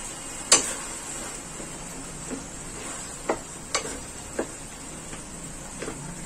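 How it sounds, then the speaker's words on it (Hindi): Mashed eggplant bharta frying in a pan, a soft steady sizzle broken by a few sharp clicks and scrapes of stirring, close and fairly quiet. "अच्छे से मिक्स करें और 5 मिनट ही और अच्छे से इसको फ्राई करें।"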